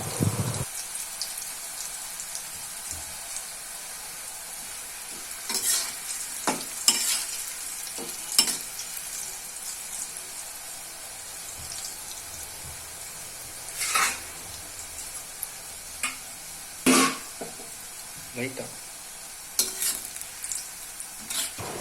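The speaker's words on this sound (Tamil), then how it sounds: "ஆயில் ஹீட் ஆனதுக்கப்புறம் அதில் கொஞ்சம் கொஞ்சமாக பீட்ரூட்டை சேர்த்து ஃப்ரை பண்ணி எடுத்துக்கிறேன்" Beetroot slices fry in hot oil with a constant soft sizzle, and occasional louder scrapes and clatters come from stirring and turning the chips, with no voices.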